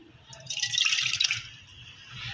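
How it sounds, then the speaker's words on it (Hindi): Tamarind mixture is poured into a jug, giving a splashing liquid pour that swells for about a second and then tapers, close and clear with no talk. "इसके अंदर ये जो इमली का मिक्सचर है ये ऐड करूँगी।"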